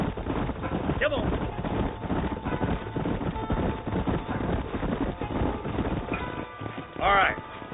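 Rapid hoofbeats of horses galloping in Red Dead Redemption, steady rhythmic clatter under wind noise, with a brief voice near the end.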